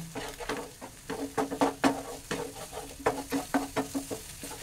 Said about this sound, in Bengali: এবার এই ডিমটাকে দিয়ে আমি একটু ভুজি করে নিচ্ছি